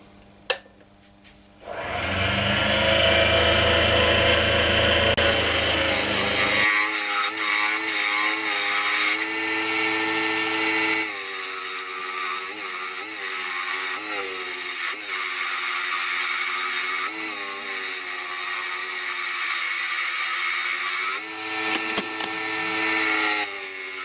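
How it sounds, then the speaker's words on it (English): A wood lathe spinning a cherry wood blank for an inlay box while its end is faced off, a loud steady motor whine with shifting tonal hums and scraping tool contact, starting after a brief quiet moment. "I've got to face that off and get a tenon on this end"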